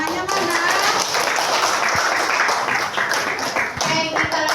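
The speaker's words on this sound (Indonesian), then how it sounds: "Oke, tepuk tangannya mana?" A room of people claps together in a dense, steady burst of applause that holds loud and even for several seconds at a university session.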